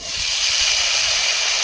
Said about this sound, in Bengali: ওই তেলে আলুটা ভেজে নেব